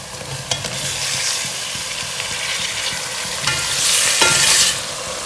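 Ginger and garlic fry in a pan for a biryani, with a steady loud sizzle and scraping stirs, plus a few sharp utensil knocks near the start and later on.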